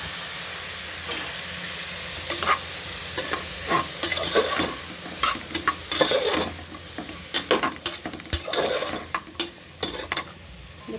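Carrots and beans sauté in a hot pan for vegetable biryani, with a steady sizzle and repeated sharp scrapes and clinks of a spoon stirring against the metal, close and fairly loud, no talking.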